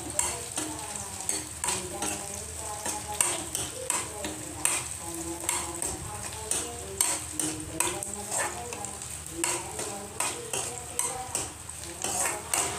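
Onions deep-frying in hot oil for a chicken curry, a steady busy sizzle with repeated stirring scrapes and clinks of a spoon against the pan, close and continuous throughout.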